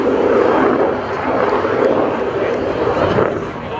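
An airplane performs at a night airshow at NAS Oceana, its engine a loud, steady, broadband roar that holds throughout the stretch, with voices faintly under it.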